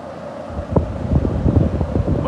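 SMC Laguna 36-inch ceiling fan running, a steady whooshing rush of moving air with a low rhythmic thumping beat from the blades, close and moderately loud.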